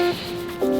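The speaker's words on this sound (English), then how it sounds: "I am scrubbing solely at the scalp right now" Fingers scrub at the scalp during a hair wash in a very brief, close rubbing burst with a squeaky, tonal edge, fading and then returning within under a second.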